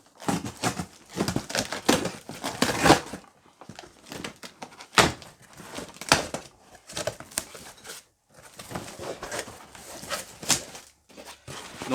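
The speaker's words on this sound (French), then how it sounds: "On ouvre le carton." Cardboard parcel box holding a softbox lighting kit being sliced open with a paper cutter and pulled apart, close and loud crinkling, tearing and scraping bursts with brief pauses, no talking.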